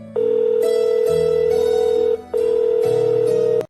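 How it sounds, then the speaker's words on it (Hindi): Telephone ringing as a call goes out: two long electronic ring tones, each about two seconds, separated by a short gap, loud and close with no talk. "तभी पंकज ने सुनील को फोन किया।"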